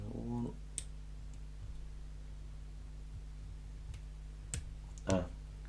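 Tiny pin clicks from a lock pick working an ABUS 65CS/50 padlock come as a few faint, sparse ticks over a steady low hum, with a brief louder click near the end.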